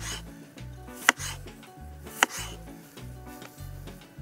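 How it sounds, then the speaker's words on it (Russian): A knife slices potatoes into thin rings on a board for a Lancashire hotpot, a steady run of soft, rhythmic cuts with two sharper clicks, close and without talk. "И нарезаем картошку вот такими тоненькими."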